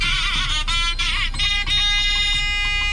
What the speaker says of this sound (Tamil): ஒரு காப்பிரைட் ஃப்ரீ நாதஸ்வரம் தான்.